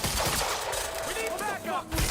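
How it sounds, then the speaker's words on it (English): Quantum Break video game gunfire: a short, dense burst of rapid shots with shouting voices mixed in. "He's got a gun! Open fire!"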